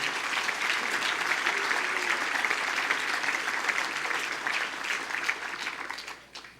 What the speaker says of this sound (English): How about a round of applause for them as well?